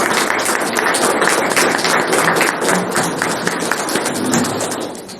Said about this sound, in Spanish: Las fuertes palmas para el doctor